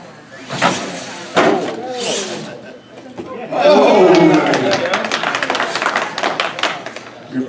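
An R/C pro mod car engine runs steadily through a freestyle run at a hobby event, rising to a loud sustained whine midway, with crowd chatter and voices around it.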